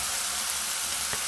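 Ginger garlic paste fries in a pan, a dense even hiss of sizzling oil without pause through a brief moment.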